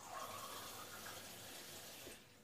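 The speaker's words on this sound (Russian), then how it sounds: "Доливаю воды в мой стаканчик." Water poured into a drinking glass while cooking Turkish rice pudding, a steady faint trickle lasting about two seconds before tapering off, heard alone without talk.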